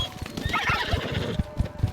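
A horse in Red Dead Redemption 2 whinnies loudly over a run of rhythmic hoof clip-clops, with game sound effects in the background.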